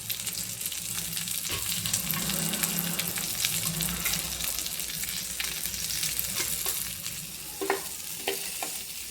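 Onion and okra fry in a pan with a continuous close sizzle and crackle, broken by scraping stir strokes and a few sharper clicks of the spatula.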